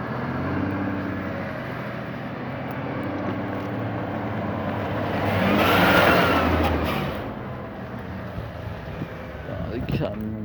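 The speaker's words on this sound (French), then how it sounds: "Les camions. Est-ce que ça arrête de passer ces bazars, ces engins?" Trucks on a mountain road pass under a steady engine drone, one rising to a loud rush as it goes by and then fading, while people talk over it.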